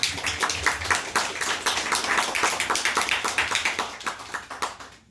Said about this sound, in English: So if we could give him a round of applause and welcome him.